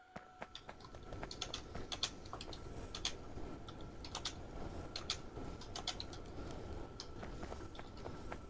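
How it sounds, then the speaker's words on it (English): Loud computer keyboard typing during an online session, rapid irregular clicks and sharp keystrokes close to the microphone over a low background hum, with no talking. "Motor, your keyboard is quite loud."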